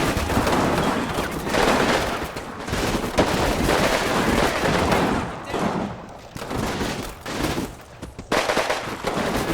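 Gunfire in the Combat Mission: Final Blitzkrieg war game, dense rattling bursts of machine-gun fire and shots overlapping almost without pause, loud and sustained, with a few short gaps between volleys.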